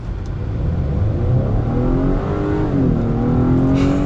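An Acura TLX A-Spec engine in sport mode revs up loudly and steadily, its pitch rising and falling as it climbs through the revs, close and continuous with no talking.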